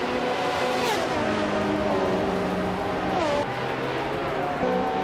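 A 1996 Osella PA 20 BMW race car engine howls at high revs, pitch rising and falling through gear changes, loud and continuous with other cars audible around it.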